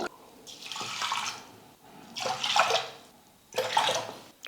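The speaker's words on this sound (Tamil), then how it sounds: "ஒரு டம்ளர் அரிசி பருப்புக்கு ரெண்டரை டம்ளர் வந்து நம்ம தண்ணி சேர்த்துக்கிட்டால் போதும்" Water is poured into a pressure cooker holding soaked rice and dal, in three splashing bursts with brief pauses between them, close and moderately loud.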